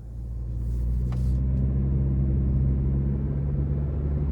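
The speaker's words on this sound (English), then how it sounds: "let's go ahead and take this 2026 Prius XLE out on the road for a test drive." A 2026 Toyota Prius XLE cruising on the road, a steady low rumble of engine and road noise holding evenly throughout, with no talking.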